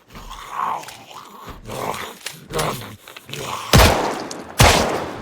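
Gunfire at a zombie in Project Zomboid, with two sharp, loud broadband shots near the end over a background of game ambience and growls.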